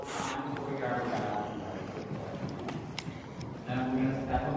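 Hooves clip-clop in a steady canter rhythm beneath a person talking, with constant outdoor background noise.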